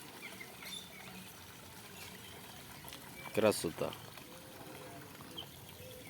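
Gentle water trickling and splashing from a small fountain in a duck enclosure, low and continuous, with a brief louder gurgle and a short spoken word midway.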